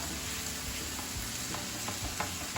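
Onion and garlic sauté with spices in a pan, giving a steady close sizzle with a few light stirring scrapes and no voice.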